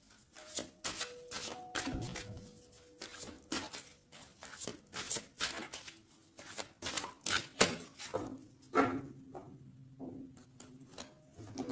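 A deck of tarot cards is cut and shuffled by hand, giving a long run of crisp, rapid card slaps and riffles close by, steady and fairly loud, with no talking.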